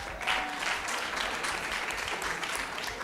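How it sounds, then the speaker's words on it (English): An audience at a national newsroom contest grand finale claps steadily for a producer. The dense, even applause fills the whole moment, fairly close and at constant strength. "may we clap for this man."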